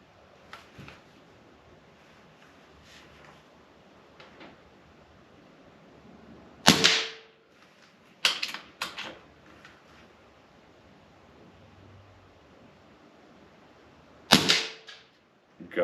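A stock air rifle firing JSB pellets at an RX target system: three sharp, separated shots ring out in a quiet setting, each a crisp crack followed by a brief metallic ring from the target.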